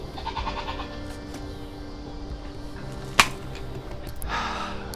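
Goats waiting to be fed bleat faintly at a distance amid outdoor background noise, with a sharp click partway through and a short rustling burst near the end.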